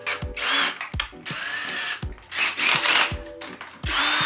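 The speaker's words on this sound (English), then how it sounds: "So we need a drill gun" A cordless drill fitted with a 3/8 bit bores into a plastic food-grade bucket in several loud, close bursts of high-pitched whirring, separated by brief pauses and clicks.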